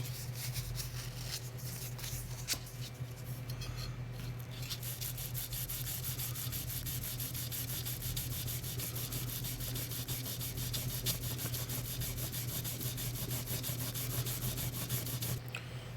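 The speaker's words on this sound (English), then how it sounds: "Give it a final sand and tape it up" Steady hand sanding rubs back and forth across the wooden body of a handmade archtop guitar during final finishing, a close, continuous scratchy abrasion lasting the whole stretch with no talking.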